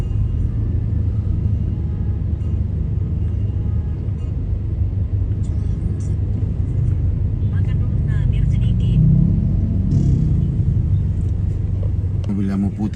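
Cars idle and creep in heavy traffic at a U-turn point on the road between Takalar and Gowa regencies, a continuous low engine rumble with passing vehicle noise. A voice talks throughout.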